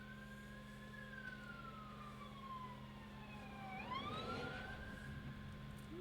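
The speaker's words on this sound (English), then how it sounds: "we got sirens going on." A wailing emergency siren sweeps down and then up in pitch, faint and distant over a low steady engine hum.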